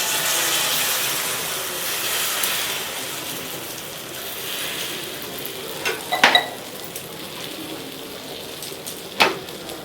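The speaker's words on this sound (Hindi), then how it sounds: "अब मैं इसमें डालूंगी अंडा, जो यहाँ पे मैं मिर्ची, प्याज और नमक वमक डाल करके तैयार कर रखी हूँ" Egg frying in a pan with chili, onion and salt, a continuous close sizzle with a few sharp clinks and scrapes of stirring partway through.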